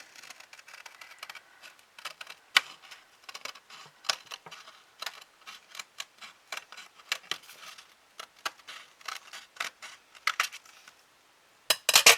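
Scissors snip through paper while a June music-themed card is cut out, giving a string of crisp, irregular close cuts and rustles with short pauses, no talking.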